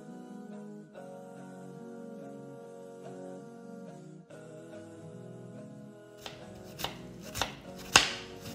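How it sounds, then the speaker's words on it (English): Onion being diced with a knife for chicken noodle soup: after a stretch of music, a few sharp, close chopping knocks land in the final couple of seconds. "And once the onions are diced,"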